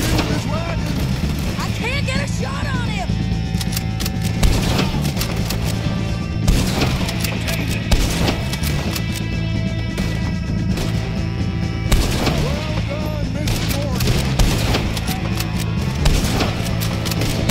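Gunfire in Red Dead Redemption 2, dense sharp shots and booms bursting repeatedly over a loud, busy game mix, with a voice talking throughout.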